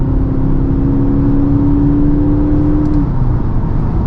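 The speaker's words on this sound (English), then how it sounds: "and I'll floor it one more time" A 2022 Audi SQ5 diesel in dynamic mode with its sound generator, floored at full throttle: a loud, steady engine drone with a rising tonal whine that holds, then drops away near the end, heard from inside the car.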